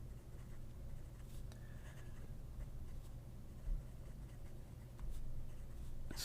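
A Stipula Etruria Lucens fountain pen with a flexible steel nib scratching faintly across paper, a quiet, steady scribble beneath a constant low room hum, without any talk.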